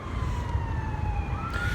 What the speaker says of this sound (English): Ambulance or something going here.